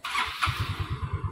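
A fuel-injected motorcycle engine cranks and catches, settling into a quick, steady putter, close and moderately loud.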